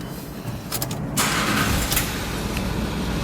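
A Land Rover Discovery 3 TDV6 SE diesel cranks briefly and catches, then settles into a steady, close idle rumble.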